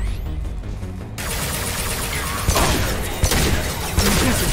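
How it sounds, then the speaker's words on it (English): High-impact gunfire in the video game Mass Effect 2, with loud, dense bursts of shots and booms layered over continuous combat noise and music, with sharper blasts standing out near the end. "Firing a high impact shot!"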